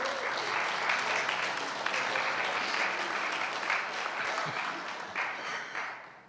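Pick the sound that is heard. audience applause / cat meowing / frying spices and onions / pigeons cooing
audience applause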